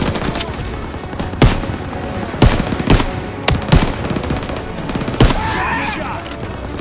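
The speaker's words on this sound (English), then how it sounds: "MGs are tearing us up!" Machine gun fire in the World War II video game Call of Duty: repeated sharp bursts and single loud cracks over a dense battle din, with game voices shouting in the background.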